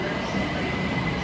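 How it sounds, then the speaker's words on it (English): A London Overground Windrush line class 378 electric train arrives at a station, a brief, steady rumbling roll of wheels on track with a faint high whine, fairly close. "here comes my Windrush line train bound for Highbury and Islington"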